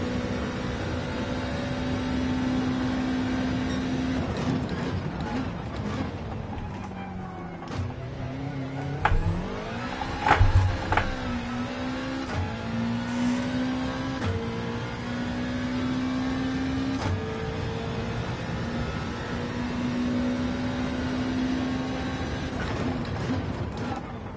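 Subaru WRX GT3 race car engine in Gran Turismo 7, a steady mechanical drone with shifting pitch as the revs rise and fall, plus brief gear-change bumps around the middle, moderately loud with no talk.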